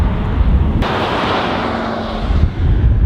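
A jet airliner roars down runway 10 right on takeoff at Dublin Airport, a loud, steady broadband thrust noise close at hand that fills the whole stretch.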